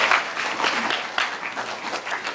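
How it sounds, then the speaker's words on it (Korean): An audience at a university entrance orientation ceremony applauding to welcome a professor, the dean of academic affairs, with a brief burst of lively, close clapping that swells and ebbs in waves. "모두 박수로 김병철 교무처장님을 맞이해 주십시오."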